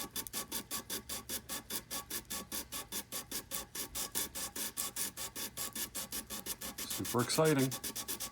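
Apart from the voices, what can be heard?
sanding a Graph Tech Tusq XL guitar nut back and forth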